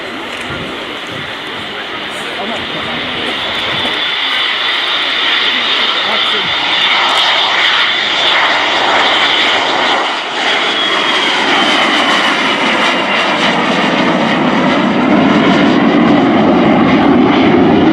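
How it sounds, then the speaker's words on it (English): Two de Havilland Vampire jet aircraft of the Norwegian Air Force Historical Squadron fly past at an air show, a loud, sustained jet roar that builds and shifts in pitch as they pass, with a commentator talking over it. "here come the two Havilland Vampires."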